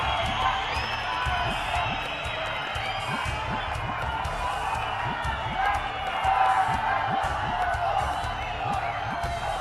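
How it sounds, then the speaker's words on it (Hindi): Crowd at the Prime Minister's rally in Chamba clapping and cheering, a steady wash of applause with scattered sharp claps and a slight swell midway, while a voice talks over it. "संपूर्ण भारत के संकल्पों को जोरदार तालियों के साथ अभिनंदन"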